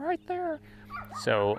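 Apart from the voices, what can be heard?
dog barking in the distance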